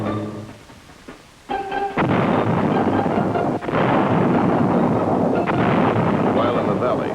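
Fourth Infantry Division artillery fires on enemy positions: loud, heavy booms land in quick succession, each followed by a long, rolling rumble that fills the air.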